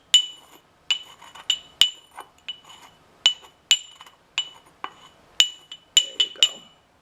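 A pestle strikes and grinds a few pieces of herb in a mortar, giving a series of sharp, bright clinks and scrapes at an irregular pace, close and clear, with no talking.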